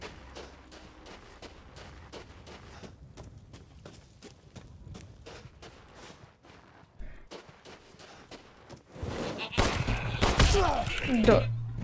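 Rapid video-game gunfire crackles as a quick series of sharp shots, growing louder and denser near the end amid scuffling noises.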